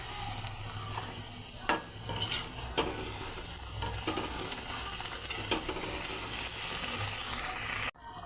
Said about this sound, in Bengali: এভাবে সবকটা ফুচকা আমি ভেজে নেব।